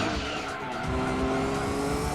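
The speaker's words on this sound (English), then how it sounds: "Oh, even the drifting is super manageable." Race car drifting in the video game Gran Turismo 2, engine droning steadily under a sustained tire squeal through a corner, loud and continuous, no talk.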